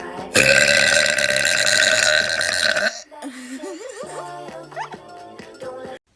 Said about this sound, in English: So I've been practicing my burps.